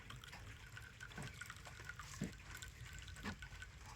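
Herbal hair juice trickling through a sieve into a bowl, a soft continuous liquid pour with faint drips, quiet and close with no talking.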